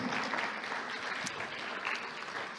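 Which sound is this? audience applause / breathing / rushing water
audience applause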